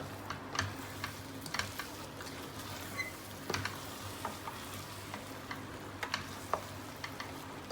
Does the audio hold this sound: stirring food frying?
yes